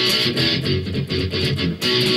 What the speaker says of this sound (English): where we're doing a lot of palm muting